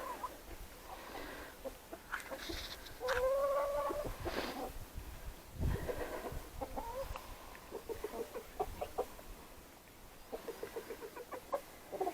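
Chickens clucking in a lively run of varied calls, fairly close, with no talking.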